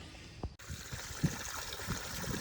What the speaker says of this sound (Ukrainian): Далі нам треба всі наші кущики просто пролити спочатку водою.